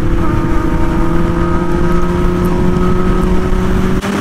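A Kawasaki ZX6R sport bike engine drones steadily and loudly throughout, a sustained mechanical tone holding level before a brief dip near the end, with no speech.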